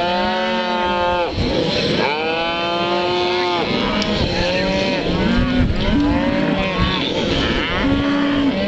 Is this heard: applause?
no